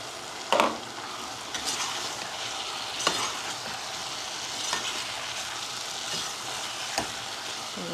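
Ridge gourd tipped into a tomato gravy with chana dal and stirred in a pan, a soft continuous sizzle with a sharper clatter near the start and a few scattered scrapes of the spoon.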